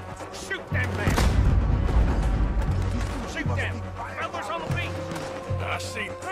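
Gunfire in a Red Dead Redemption 2 beach fort battle: repeated heavy booming shots and crackling rifle fire sound close and loud, with shouted voices over the din throughout.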